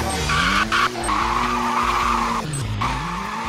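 A car in Roblox skids on a slippery off-road track, with a loud sustained tire squeal over a droning engine that dips and rises for a few seconds.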